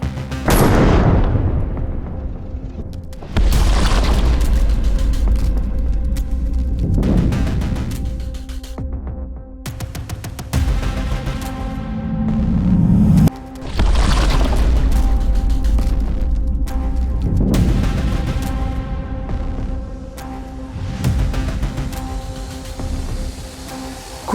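Pistol shots with G9 external hollow point defensive ammunition ring out in a slow, evenly spaced series, each loud crack followed by a lingering echo, about five or six rounds across the stretch.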